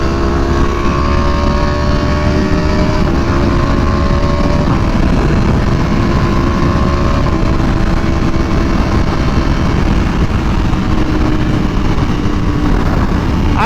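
A V4R sport motorcycle roars continuously while being ridden hard, its loud engine holding a sustained high drone with rising and shifting tones mixed with wind rush, close and unbroken for the whole stretch.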